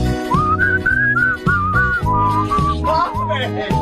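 A man whistles a bright, agile melody along to a song, with the song's brassy backing music playing loudly underneath the whistle.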